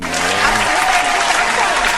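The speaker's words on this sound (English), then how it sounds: "Clap that up." Loud, close applause from an audience, a dense wash of clapping hands that stays steady through the short stretch, with a brief spoken word near the start.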